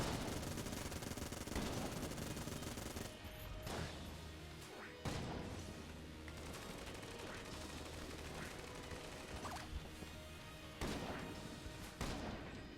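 Rapid video-game gunfire from Enter the Gungeon, with dense, sustained bursts of shots and several sharp, heavy blasts at intervals, loud and continuous under game effects.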